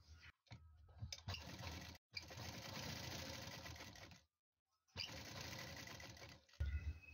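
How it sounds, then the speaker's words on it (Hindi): A sewing machine stitches round piping onto a kameez neckline over buckram in steady, close bursts of motor whir and needle chatter, with brief pauses between runs. "यहाँ पर बिल्कुल एक जैसा दबाव लेते हुए सिलाई लगाएंगे बुकरम के ऊपर।"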